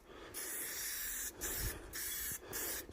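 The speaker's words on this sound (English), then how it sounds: "just lightly spray the first coat on, just moving around the forks" Spray paint hissing lightly onto the forks of a Raleigh Burner bicycle frame, four short bursts of steady close-up aerosol hiss separated by brief pauses, no voices.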